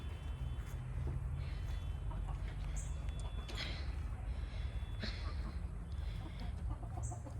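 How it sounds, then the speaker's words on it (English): Backyard chickens cluck softly while pecking at afternoon scratch feed, with occasional brief calls over a steady low outdoor hum; the birds sound moderately near and fairly faint. "the chickens are into it over the scratch"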